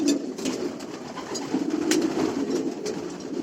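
Racing pigeons cooing inside a loft, a low steady murmur of overlapping coos close by, with a few faint clicks and shuffles and no talking.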